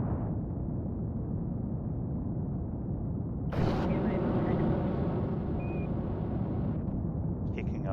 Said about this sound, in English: Kicking off the abort tower.